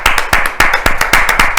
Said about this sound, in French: sur le plateau de Samedi chez vous, Dometok, que je vous prie, chers co-animateurs, d'applaudir.